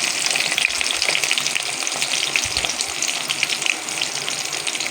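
Small onions and fenugreek seeds sizzle in hot oil in a pan, a steady crackling, hissing fry with scattered pops, close and moderately loud, with no voices.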